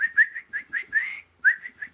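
A person whistles a quick series of short, bright chirping notes to call a dog, heard close and alone with a brief pause in the middle.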